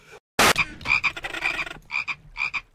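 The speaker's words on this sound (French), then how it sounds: "Vous êtes même pas des vraies grenouilles." Frogs in Minecraft croak in quick bursts after a sharp thump, the calls near and loud and repeated in short clusters with gaps between them, and no voices over them.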